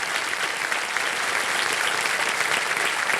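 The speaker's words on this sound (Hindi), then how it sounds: "तालियां बज जाएं इनके लिए" A studio audience on the KBC quiz show applauds, a dense, even roar of clapping that holds steady and fairly loud throughout, with no one speaking over it.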